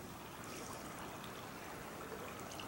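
Rippling water from a creek along a wooded trail with bluffs, steady and close as a continuous broadband rush with no voices.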